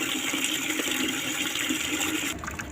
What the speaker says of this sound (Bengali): তো চলো গাছে জল দিই